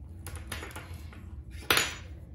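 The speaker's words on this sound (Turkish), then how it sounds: "Şimdi ince olan şişimle örmeye başlayacağım." Knitting needles, one thick and one thin, click against each other while knitting a sweater: scattered light taps close by, ending in one sharper clack, with no talk.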